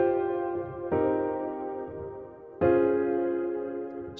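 A chord progression moves from a suspended 2 chord into the 5 and 6 chords: three sustained, harmonically rich chords, each struck cleanly and left to ring and fade before the next, with no voice.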